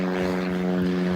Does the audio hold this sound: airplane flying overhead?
yes